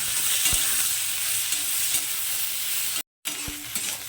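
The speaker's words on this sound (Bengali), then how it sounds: "বেগুনটাকে একটু লাল লাল করে ভেজে নেব প্রথমে" Eggplant frying in a pan of hot oil with turmeric and salt, a steady close sizzle broken by a few stirring knocks and one brief gap.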